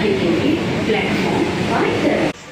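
An almost empty metro train moving along, heard from inside as a steady rumbling whoosh with faint rattles throughout, before the sound cuts off abruptly near the end.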